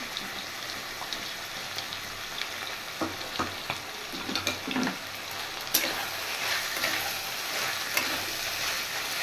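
Mutton liver frying in ginger garlic paste, a steady close sizzle with scattered crackles and a few scraping stir strokes, loudest in brief bursts midway, no voices.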